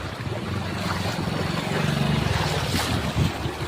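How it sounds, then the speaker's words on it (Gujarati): Floodwater from an overflowing river rushes through a village, a loud, steady roar of churning water with wind buffeting close to the microphone and no voices. "પાણી હજી ફાસ્ટ આવે છે પાણી"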